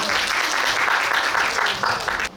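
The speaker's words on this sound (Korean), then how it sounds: "박수로 모시겠습니다." Clapping from a crowd at a youth climate debate competition awards ceremony, brisk and even for about two seconds before stopping abruptly.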